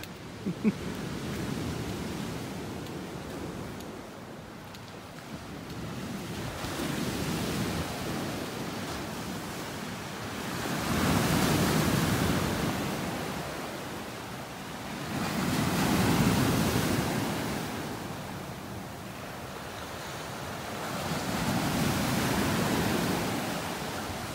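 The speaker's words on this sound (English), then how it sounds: "I just kind of drift away listening to the waves." Ocean waves roll onto a beach in North Naples, Florida, each swell rising and fading in a slow, regular surge under a constant background wash of surf and light wind.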